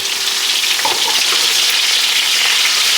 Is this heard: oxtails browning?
yes